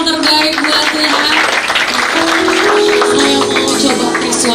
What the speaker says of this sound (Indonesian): Boleh kasih tepuk tangan yang terbaik buat Tuhan